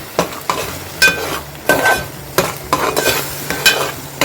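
Pomfret masala being stir-fried in a pan, with a utensil scraping and clanking in short repeated strokes over a light sizzle, loud and close with no talking.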